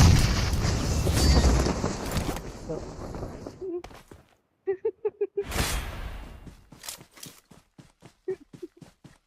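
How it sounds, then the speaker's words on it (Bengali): A grenade in PUBG Mobile erupts in a loud, rumbling blast that fades into a long tail, followed by rapid bursts of in-game gunfire and short clatters, with a voice talking partway through. "গ্রেনেড মারেন, মুখের উপর গ্রেনেড মারেন ওর আগে"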